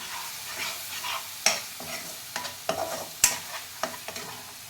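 Pureed tomatoes fry in a pan with spices as a spoon stirs them, making soft sizzling under a series of sharp scraping strokes at an uneven rhythm, close and fairly quiet.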